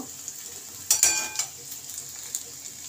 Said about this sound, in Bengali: একটু কাজু বাদাম নিয়েছি, এটাও আমি একটু এই তেলের মধ্যে ভেজে নেব